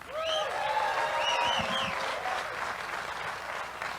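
Sustained applause from a large outdoor crowd at a professional bass fishing tournament weigh-in on the St. Lawrence River, steady and fairly loud throughout, with whistles and cheers rising above the clapping.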